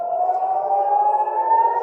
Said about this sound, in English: as you can hear, the sirens are going off here in Tel Aviv